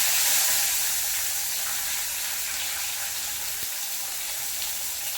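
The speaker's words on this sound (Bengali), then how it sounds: "জাস্ট ওই তেলের মধ্যে তেজপাতা দিয়ে দেবো" Bay leaves dropped into hot oil in a pan for a mutton and chicken curry, producing a loud, bright, continuous hiss that fades slightly over the span.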